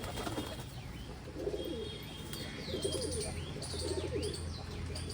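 A flock of pigeons coos repeatedly at a feeding spot, overlapping throaty calls rising and falling over a steady low background hum, with faint chirps mixed in.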